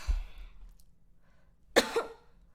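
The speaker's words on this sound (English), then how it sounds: "I'm still coughing." A single sharp cough rings out close and alone, preceded by a soft breath and followed by a brief throaty trailing sound.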